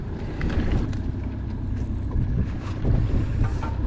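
A small boat's outboard engine drones steadily and loudly throughout on a big river, its low rumble mixed with wind buffeting the microphone.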